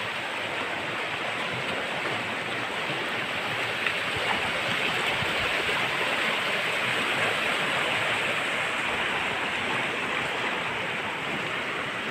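Rain-swollen river rushing hard, a dense, steady roar of fast water heard close and loud throughout, with no voices.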